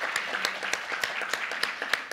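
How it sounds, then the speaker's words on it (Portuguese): Applause from a seminar audience: a brief burst of steady clapping by a modest crowd, fairly close, with no talk over it. "eu não sei se ouço essas palmas como parabéns ou como pêsames"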